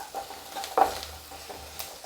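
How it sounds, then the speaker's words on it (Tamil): Chopped vegetables and turmeric softening in a little oil in a pan for a Tamil karamani egg poriyal, a soft sizzle with several stirring scrapes and clinks, close and fairly quiet. "லைட்டாக எண்ணெயில் வதக்கிட்டு"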